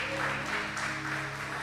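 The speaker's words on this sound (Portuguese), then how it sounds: "Quem pode aplaudir esse Deus maravilhoso?" Church congregation applauding during a sermon, a steady dense wash of clapping with a faint voice and sustained tones underneath.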